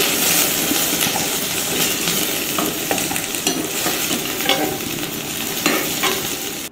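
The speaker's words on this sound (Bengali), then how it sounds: "ভেন্ডিগুলো একটু ভাজা ভাজা হয়ে এলে আমি নামিয়ে নেব।" Okra (bhindi) frying in a pan while being stirred, a loud, dense, continuous sizzle close by, with scattered scraping and tapping of the utensil throughout and no talk.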